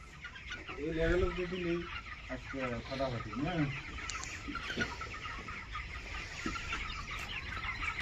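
Young chickens clucking and peeping on a home farm, a burst of close, quick chirping calls near the start followed by softer, scattered clucks against a light background hum.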